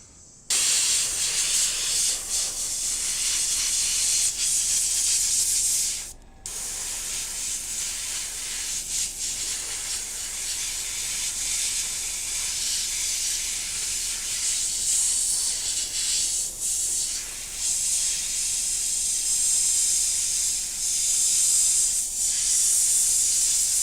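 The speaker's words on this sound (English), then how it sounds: "I knew I had a lot of airbrushing to do." An airbrush sprays in a long continuous hiss, close and steady, with one brief cutoff early on and small wavers in strength while the painting goes on without talk.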